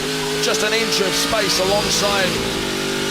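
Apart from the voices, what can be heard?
racing car engine pushed hard during Speedcar Series race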